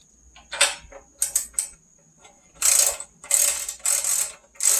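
A spark plug is threaded by hand back into a Briggs & Stratton pressure washer engine, giving close, dry metallic ratcheting and creaking scrapes in short bursts separated by brief pauses.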